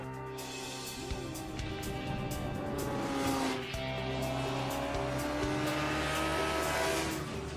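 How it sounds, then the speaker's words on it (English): A motorcycle engine roars past at high speed across a finish line, its pitch sweeping as it goes by, followed by more engine noise continuing steadily. "the GP bike goes flying across the finish line, and then 1, 2, 3. There goes the street bike"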